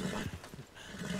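A horse in the video game Red Dead Redemption 2 gives a short whinny mixed with a few clip-clopping hooves, close and loud over busy game ambience.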